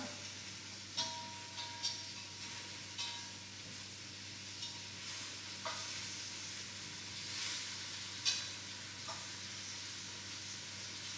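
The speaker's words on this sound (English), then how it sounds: "One more turn this way. And a turn that way. A little sear on here." Oxtails searing in a pan give off a steady, fairly quiet sizzle, broken by occasional soft clinks and scrapes as the meat is turned, no voices.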